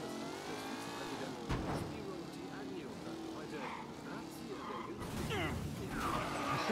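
A car driving in the video game Mafia 3, its engine droning and shifting pitch steadily under continuous talk from someone speaking German.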